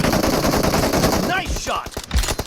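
Rapid burst of automatic gunfire in PUBG Mobile team deathmatch, loud and dense, then breaking into scattered single shots, with a game voice announcement partway through.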